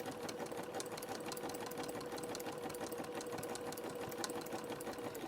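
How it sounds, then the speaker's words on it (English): A sewing machine runs steadily at close range, stitching fabric-wrapped rope for a trellis lace bowl, its rapid mechanical chatter continuous and strained by the thick material, with no voices. "My sewing machine's not liking it too well,"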